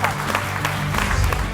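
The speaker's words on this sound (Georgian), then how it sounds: "ეს აპლოდისმენტები შენ, მაგვა." A short burst of audience applause at a televised comedy contest show, a dense patter of many hands over a low tonal background.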